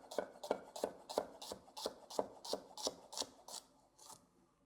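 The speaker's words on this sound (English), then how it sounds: "I'm just gonna thinly slice the shallot" A knife thinly slicing a shallot on a cutting board: about eleven crisp, evenly spaced cuts in a steady rhythm, close and clear, gradually slowing and fading at the end, with no talking.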